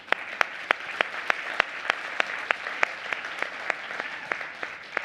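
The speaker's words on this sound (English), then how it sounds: "So I would like to give them a big round of applause" An audience at a company convention applauds, a continuous wash of hand clapping punctuated by regular sharp individual claps, steady and fairly close with no speech over it.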